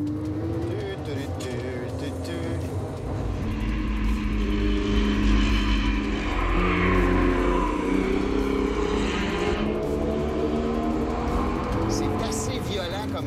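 A Porsche 911 Turbo S at speed on a race track, its engine drone loud and continuous throughout, swelling slightly midway as it passes, with someone talking over it.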